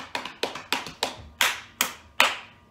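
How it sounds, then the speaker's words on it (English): Sharp hand claps, about eight loud, close claps in a slightly uneven rhythm, each crisp and separate with a short decay and nothing else heard around them. "You can clap your hands, make a lot of loud noise"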